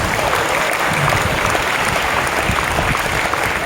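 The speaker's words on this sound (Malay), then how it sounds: "Tepuk tangan untuk diri sendiri." A live audience claps steadily throughout at a religious lecture marking Nuzul al-Quran, the dense applause filling the room with no voices standing out.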